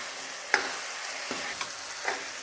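Masala spices fry in oil with meat in a pot, a steady close hiss with three scraping strokes of a spoon stirring through it, and no talking.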